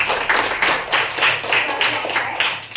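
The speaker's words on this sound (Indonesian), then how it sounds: "Tepuk tangan untuk Feris" A group of pupils claps together in a classroom, a steady run of overlapping hand claps lasting a few seconds at moderate loudness.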